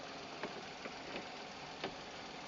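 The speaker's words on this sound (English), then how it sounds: "so there we go, the engine's running" A VW Polo 1.2 with a petrol/LPG engine idles with a steady, even hum and a few faint periodic knocks.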